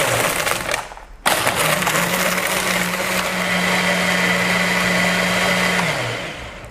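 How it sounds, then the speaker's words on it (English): A blender crushes ice for an instant-coffee frappuccino, starting with a loud burst after a brief pause, then running steadily with a whirring grind and rattle of ice before winding down. "pop into the blender and pause"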